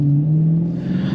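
A 2022 Dodge Challenger Scat Pack with its 6.4L V8 accelerates hard from inside the cabin, a loud, steady low engine drone that rises slightly in pitch over about a second.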